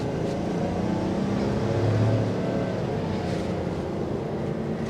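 A 2023 GMC Yukon rolls through a full-lock turn from a stop, giving a steady, moderate engine and road hum heard from inside the cabin without talk.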